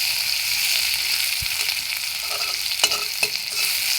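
Onions fry steadily in hot oil in a pan, a loud, continuous bright sizzle with a few stirring clicks and scrapes near the middle and end.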